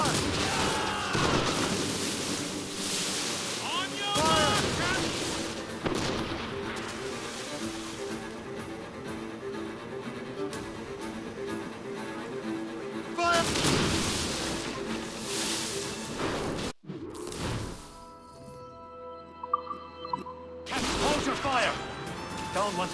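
Ship cannons firing during a naval battle in the video game Assassin's Creed Rogue, heavy booming blasts and crashes in dense bursts over music and shouting voices, with a brief drop to quieter creaking near the end.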